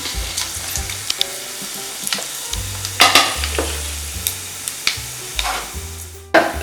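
Fennel seeds, cinnamon and cloves frying in ghee, a steady crackling sizzle with repeated spoon scrapes and clinks against the pan, close and fairly loud, with no talking.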